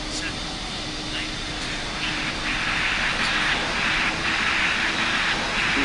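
Steady roar of Airbus A380-800 jet engines at takeoff in a flight simulator game, a loud continuous broadband rush that swells slightly, with a voice talking over it.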